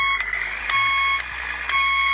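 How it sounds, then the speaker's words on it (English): A Beier sound module on an RC vehicle emits repeated reversing beeps, steady electronic tones pulsing roughly twice a second, loud and close with no talking. "I have it set so we have a horn beeping and hazards when reversing."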